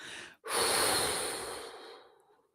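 After a short quick breath in, one long slow exhale through the nose or mouth is heard during a guided breathing exercise, close and airy, fading gently away over about two seconds.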